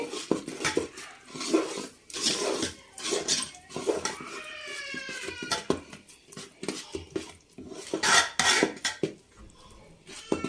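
Ghee ariselu dough being mixed by hand in a vessel as flour is added bit by bit, with steady scraping, clinking and rubbing strokes against the pot, repeated in uneven bursts at close range.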